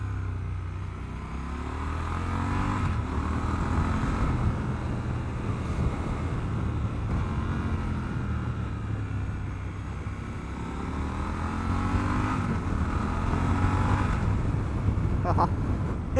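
A Triumph Scrambler 1200 XE motorcycle under way, its engine droning steadily through heavy wind rush with a couple of swells in revs, the rider's voice faintly present beneath the noise.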